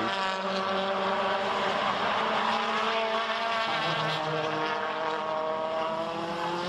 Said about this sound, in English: Dusan Borkovic's car is coming back on pit road